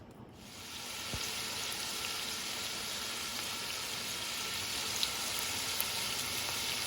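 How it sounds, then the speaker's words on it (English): Meat browning in batches in avocado oil and butter, a steady close sizzle and fry that holds evenly throughout with a couple of faint pops. "I am browning my meat in batches to make sure that it gets good and brown"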